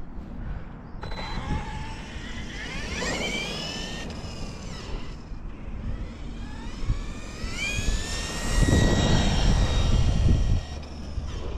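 An RC4WD Miller Motorsports Rock Racer RC car drives in second gear, its electric motor whining up and down in rising and falling pitch sweeps, loud and continuous with a rougher rumble as it speeds up.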